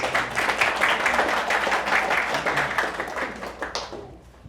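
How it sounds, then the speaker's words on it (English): An audience bursts into a round of applause, dense steady clapping from many hands that holds loud for several seconds and then thins out toward the end. "there should be a round of applause for these parents"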